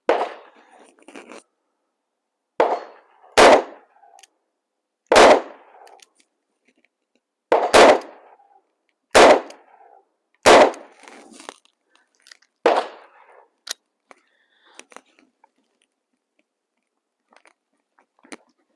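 Revolver gunshots from a Smith & Wesson .357 Magnum or .44 firing Fiocchi 125-grain full metal jacket rounds, about nine sharp loud reports spaced a second or two apart with short ringing tails and a few small clicks afterward.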